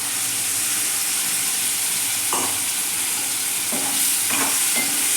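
Ground masala paste of pepper, cumin, fennel, coconut and onion hits a hot pan for fish curry, a loud steady sizzle and hiss with a few scraping stirs throughout.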